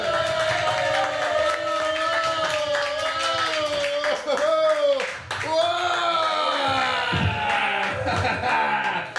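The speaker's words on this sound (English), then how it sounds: "Start stabbing them feet. Clapping them hands." A comedy club audience claps, cheers and whoops as comedians are brought on stage, a sustained crowd roar with a loud voice over it and scattered whistles.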